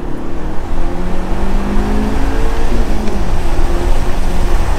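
A stock Audi S3 pulls hard on a street drive, its engine droning loudly and steadily as it accelerates, heard from inside the car with no talking.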